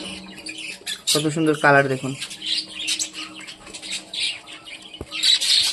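Pet budgerigars chattering and squawking nearby, a dense run of shrill chirps and harsh calls throughout, with a person speaking briefly over them.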